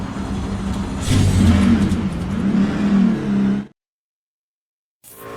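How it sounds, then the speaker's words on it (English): A loud NASCAR truck engine in a racing video game drones and climbs through its revs for a few seconds, cuts abruptly to silence, then roars back in. "The engines are fired up and the fight for the pole is on."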